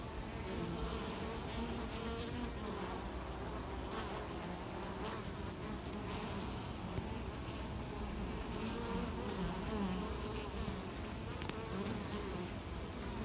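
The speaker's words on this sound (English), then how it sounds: "Lots of bees coming in with pollen." Honeybees buzz around the hive entrance in a steady, close swarm hum, with individual bees droning past now and then.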